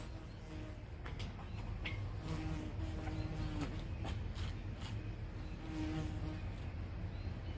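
A bee buzzes close to a person's face outdoors. The insect drone runs continuously and fairly loud, with small clicks and rustles scattered through it.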